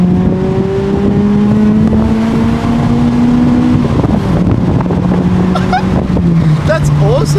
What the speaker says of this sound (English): So you can hear like at what, 6 to 200 RPMs, there's like a lift kick where like the engine goes, ooh.